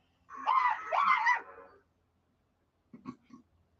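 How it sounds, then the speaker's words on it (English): A person screams from far away outdoors in two drawn-out cries, followed after a pause by a few fainter, shorter sounds. "Somebody screaming."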